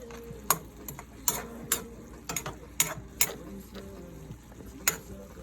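Food simmering in a pan on low heat alongside a pot of rice, with a quiet steady bubbling broken by repeated clinks and taps of utensils against the cookware.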